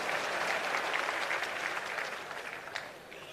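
Large audience at a requiem mass applauding, sustained dense clapping at moderate distance that gradually fades toward the end.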